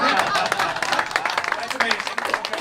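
Brief audience applause with scattered clapping, heard under and alongside a person talking.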